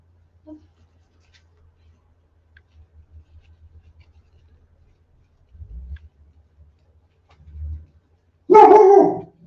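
A dog barks loudly in a short burst near the end, after quieter low thumps and rustling from wreath-making work with zip ties and a battery; nobody talks.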